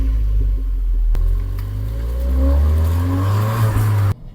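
A Ford Fiesta ST with a 1.6 turbo engine driving on the open road, its engine note rising and falling through gears as it accelerates, loud and close, cutting off abruptly at the end.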